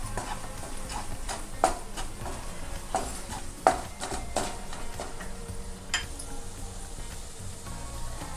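Leftover rice and salt are stirred in a pan: continuous scraping and shuffling, with sharper clinks and knocks of the utensil against the pan at irregular moments over a low, steady sizzle.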